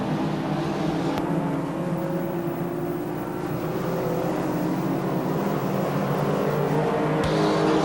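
Race cars roar around the oval at Star Speedway in a late-laps feature race, a loud continuous engine drone with cars sweeping past close by and no talk.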